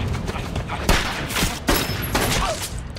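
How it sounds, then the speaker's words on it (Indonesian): In a war film, a sergeant fires on a Japanese sniper: loud, sharp gunshots crack out at uneven intervals over a rumbling battlefield din, with several distinct bursts standing out. "Sersan Howell yang melihat itu kemudian menembak sniper tersebut"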